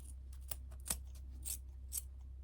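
Scissors clipping off the excess end of a zipper while sewing a crossbody bag, a few quiet close snips spaced about half a second apart over a low steady hum.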